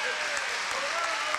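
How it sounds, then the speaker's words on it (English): Audience at a town hall meeting applauds as a congressman leaves, a steady wash of clapping at moderate level, filling the whole short stretch without a break. "Let's let him leave to great applause"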